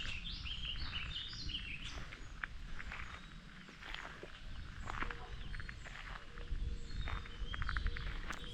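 Several small birds sing outdoors on a nature walk, a burst of bright chirps early on giving way to sparse, faint calls over soft rustling footsteps.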